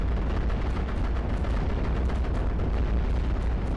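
Cannon fire pounds at tanks in the iBomber Defense strategy game, set in North West Africa, with rapid overlapping booms and blasts forming a dense, continuous loud barrage.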